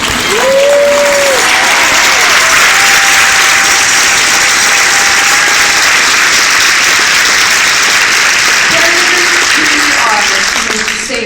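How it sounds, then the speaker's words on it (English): A crowd at a 2014 fundraising pasta party for colitis applauds for mothers with loud, sustained clapping that runs throughout, and a few voices and cheers rise over it now and then. "Can we just clap it up for all of the moms out there?"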